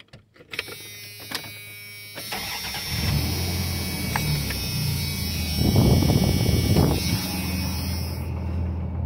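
A 1994 Dodge Dakota SLT with a 3.9 V6 and stock exhaust cranks briefly, catches and settles into a steady close idle, then revs up once before easing back down.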